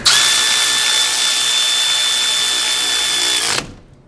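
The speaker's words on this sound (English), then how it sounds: "go ahead and spin the bolts in just till they're snug" A power tool spins caliper mounting bolts into the brakes of a first-generation Toyota Tacoma. The drill whine is loud, close and continuous for about three and a half seconds, then stops abruptly.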